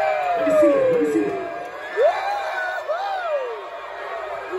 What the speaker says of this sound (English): crowd.